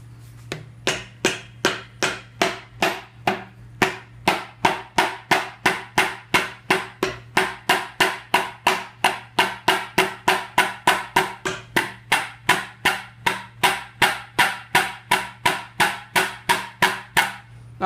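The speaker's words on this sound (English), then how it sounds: "Let's see, hammer. Where's the hammer?" Hammer striking a timing gear during engine teardown, dozens of sharp metallic blows in a steady, rapid rhythm over a constant low hum, close and loud.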